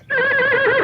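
A single short, bright horse whinny rings out as a sound effect on a 1973 story tape, close and loud against silence.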